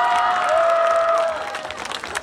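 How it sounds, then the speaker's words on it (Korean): A festival audience at an outdoor seafood festival in Goseong applauds and cheers, a loud dense burst of clapping and crowd noise that thins out toward the end. "사회장님한테 박수 한번 부탁드리겠습니다."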